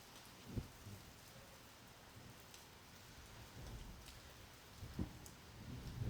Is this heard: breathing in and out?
no